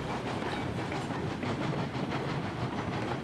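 Train running in the Railroads Online video game, a steady rumbling roll with rhythmic clickety-clack of wheels over rail joints, continuous and fairly loud with no talk.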